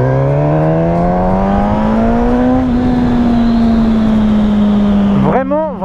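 Suzuki GSX-S 1000 motorcycle engine, 145 hp, pulling hard under acceleration, a loud, steady rising drone close up that briefly dips and wavers near the end as the rider shifts or eases off.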